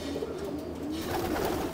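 Pigeons cooing in a loft, a soft continuous low warbling coo that repeats over a faint steady background, close by with no voices.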